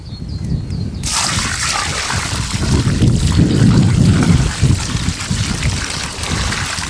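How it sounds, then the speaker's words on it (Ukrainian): Water gushes loudly and steadily as it is poured onto soil in a garden nursery bed, soaking the roots after fertilizing. A brief quieter trickle comes first, then a continuous close splashing flow. "Тому я проливаю зразу воду."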